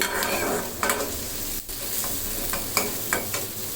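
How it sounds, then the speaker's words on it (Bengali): Food sizzling steadily in a pan over medium heat while cooking chicken cheese buns, with intermittent stirring scrapes breaking through the continuous frying hiss. "দুই তিন মিনিটের মতন একটু ভেজে নিলেই হবে"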